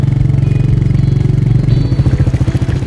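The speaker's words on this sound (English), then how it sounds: "It's a signature engine sound, a very signature exhaust note." A Royal Enfield Meteor motorcycle engine thumps at a close, loud idle, its exhaust note pulsing rhythmically and briefly revving near the end.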